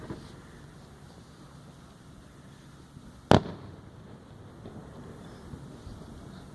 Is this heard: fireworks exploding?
yes